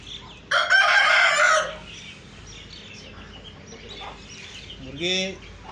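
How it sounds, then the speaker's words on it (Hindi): An Aseel rooster gives one loud, close crow, followed by a shorter, fainter call near the end, over quiet background sounds and some talk. "मुर्गे तीनों बांध दिए हैं"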